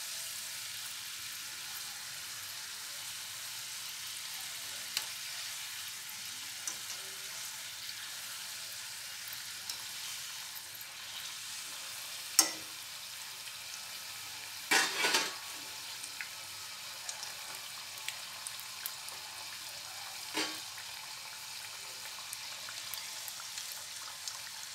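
Paneer samosas fry in hot oil with a steady, soft sizzle and hiss, broken by a few louder crackles and bubbling pops, heard alone with no voices.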